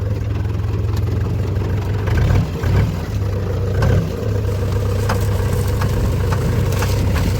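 A farm tractor's diesel engine runs continuously close by, a loud low throbbing idle that rises in a couple of short revving surges, with no talking over it.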